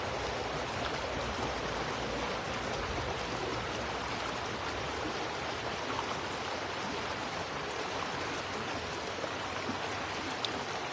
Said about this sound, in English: As you listen to the river and focus on the breath.